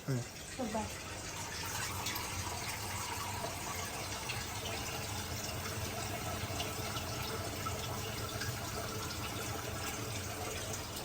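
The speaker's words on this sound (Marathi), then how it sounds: "मम्मी नळ चालूच ठेवते" A kitchen water tap runs steadily with a continuous, fairly faint gushing hiss throughout, while people talk faintly in the background.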